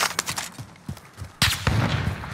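Sharp gunshots in Call of Duty Warzone, scattered single cracks early and then a louder, heavier burst of rapid fire with a rumbling low end, up close.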